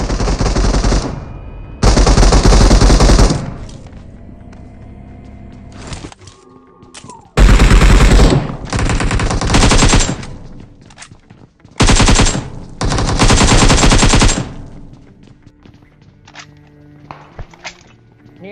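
Bursts of automatic gunfire from the mobile battle-royale game BGMI, several loud sustained volleys separated by quieter gaps with faint footsteps and in-game ambience, no talk.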